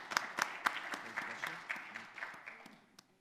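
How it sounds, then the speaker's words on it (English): Applause for speakers at the end of a talk session, a thin, fairly faint scatter of claps from a small audience that gradually tapers off, with a voice murmuring underneath. "Big hand of applause to our speakers."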